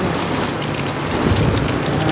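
Steady, dense rain patters on surfaces nearby, an even hiss with no pauses and no voices.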